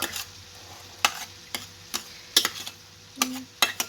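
A fork mashes sour cream in a bowl, scraping and tapping in a few short, irregular strokes, close up and quiet, with no talking.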